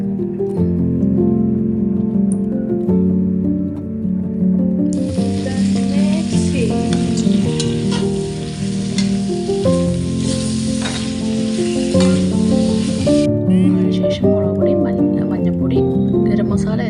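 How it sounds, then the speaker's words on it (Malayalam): Onion, garlic, ginger and tomato sautéing in butter in a pan, a continuous loud sizzle with stirring scrapes, under background music. "അടുത്ത പാനിലേക്ക് ബട്ടർ ഇടുക, സവാള വഴറ്റുക, വെളുത്തുള്ളി, ഇഞ്ചി, തക്കാളി എന്നിവ ഇട്ട് വഴറ്റി"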